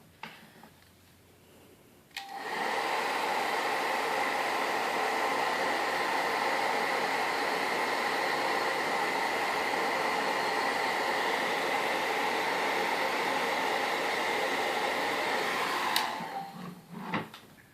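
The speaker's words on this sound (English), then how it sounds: "I'm going to heat those real quick too so they dry fast." A heat tool drying paint spritzes on a handmade card blows as a steady, loud whooshing roar that switches on, runs evenly for about fourteen seconds, then clicks off.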